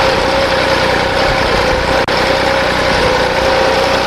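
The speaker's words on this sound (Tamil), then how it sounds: "ஹை ஃபர்ஸ்ட் கியர் தான் இருக்கு வண்டி வந்து." A tractor engine pulling a hydraulic three-disc plough in high first gear, a loud, constant droning rumble up close with a brief dip midway, no voices.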